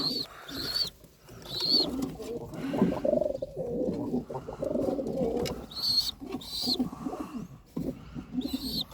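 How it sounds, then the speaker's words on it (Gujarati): Freshly released pigeons coo softly nearby in low repeated phrases, mixed with occasional high chirps and brief wing flutters, with little other noise. "મેં કબૂતરાને ખોલી નાખ્યા છે"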